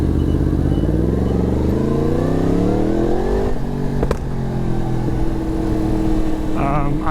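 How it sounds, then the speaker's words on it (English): A 2022 Yamaha MT-10 SP with its CP4 crossplane engine revs up, the rising growl climbing steadily in pitch, then drops back to a rough, loud idle with a brief crackle, close and prominent. "It is intoxicating the way this bike sounds."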